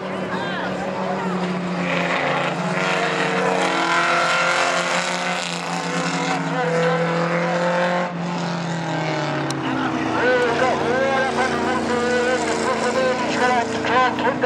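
Junior race cars, including a Commodore, run at a Port Augusta speedway meeting, their engines droning and revving steadily and loudly throughout while a commentator talks over them.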